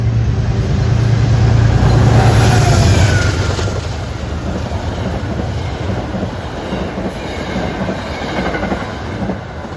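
A Metro-North commuter train passes close and loud through a station, wheels clacking rhythmically over the rails with a faint squeal, the roar slowly easing.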